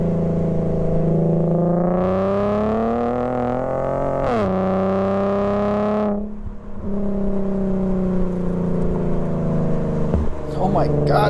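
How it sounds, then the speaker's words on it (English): An Infiniti Q50 with an upgraded exhaust revs hard, its engine note climbing steadily before dropping sharply and climbing again, loud and close with a deep, resonant exhaust tone. "I was really, really happy with the exhaust."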